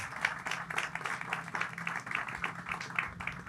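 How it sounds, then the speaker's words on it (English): Audience at an awards ceremony clapping steadily with dense, even applause throughout, moderately loud and with no talking over it. "Round of applause, everyone."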